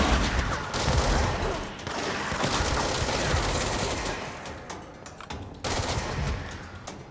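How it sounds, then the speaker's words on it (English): Rapid gunfire rattles from the video game Control, sustained bursts of shots with brief gaps, steady and dense across the whole stretch with no talk over it. "I'm just not landing enough shots."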